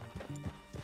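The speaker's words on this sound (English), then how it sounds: "Get your horse and let's go." Horse hooves clip-clop in Red Dead Redemption 2, a short burst of three or four soft thuds close by over a low game backdrop, with no voices.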